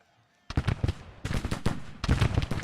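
Rapid, ragged rifle volleys from Civil War infantry lines in the strategy game Grand Tactician, loud crackling bursts arriving in three dense waves after a brief quiet opening.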